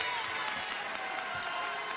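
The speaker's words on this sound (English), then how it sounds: "Crowd's into it." Arena crowd at a Stanford at Colorado women's basketball game cheering in a steady, loud roar with whoops, busy and full throughout the short stretch.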